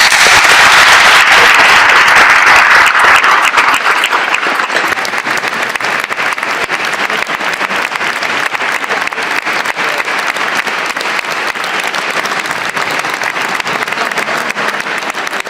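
Sustained audience applause at a choral singing tribute evening, dense and loud from the start, easing slightly after a few seconds but continuing steadily throughout with no voices.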